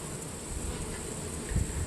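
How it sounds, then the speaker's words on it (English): A wasp buzzes faintly near an open beehive during an inspection, a soft continuous drone over a low background hum with a brief closer swell near the end. "Got a nice wasp coming in for fun."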